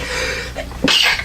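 A single sharp sneeze from someone at a tabletop Dungeons & Dragons game, coming suddenly after a stretch of quiet room tone, close and fairly loud.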